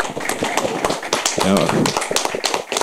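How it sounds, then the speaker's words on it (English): Audience applause for the presidents at the Trace Music Awards 2024 launch at a Zanzibar hotel: dense, close clapping and tapping throughout, mixed with voices and cheering. "If we could please give them a round of applause."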